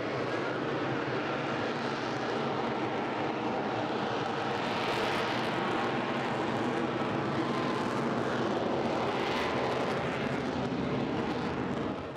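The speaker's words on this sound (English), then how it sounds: "it's been the debut of the F-35 aircraft powered by our F-135 engine here in the United Kingdom" An F-35 fighter jet powered by an F135 engine passes at an airshow, a loud sustained roar with broad rushing noise that swells and shifts as the aircraft moves.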